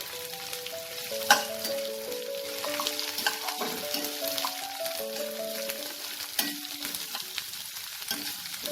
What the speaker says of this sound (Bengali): পেঁয়াজটাকে আমি 2 মিনিটের মতো একটু তেলে নাড়াচাড়া করে নেব।